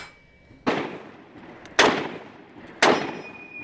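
Three sharp rifle shots from an M1 Garand ring out at roughly one-second intervals, each a loud crack trailing into a brief echo.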